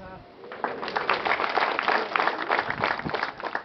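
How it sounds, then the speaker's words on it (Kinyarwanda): An audience at a joint wedding ceremony for 25 couples in Byumba sector, Gicumbi, breaks into dense, sustained clapping after a voice speaks briefly. "munze amashyi kandi tubashimire"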